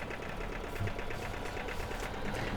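The single-cylinder petrol engine of a farm vehicle in Farming Simulator 15 chugs at idle with a rapid, steady knocking pulse, fairly quiet and with no voices.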